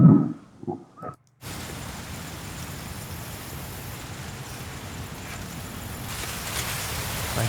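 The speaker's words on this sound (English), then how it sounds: "Nice wind with texture." Textured wind blows as a steady, broad hiss with a gritty, rustling grain and stays fairly even throughout. A few faint thumps come just before it starts.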